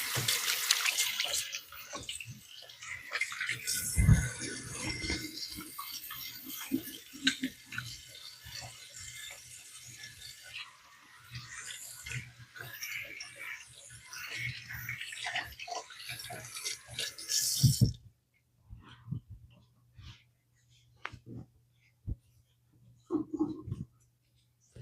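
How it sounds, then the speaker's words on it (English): A kitchen tap runs steadily while hands are washed during home baking of donuts, a continuous close hiss of water with handling noise for most of the span, then it shuts off, leaving faint clatter. "Wash my hands."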